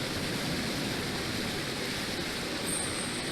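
Steady broadband rush of a waterfall pouring down a mountainside in Fatal Frame: Maiden of the Black Water, a constant dense wash of water noise with no pauses, a faint high whine creeping in near the end.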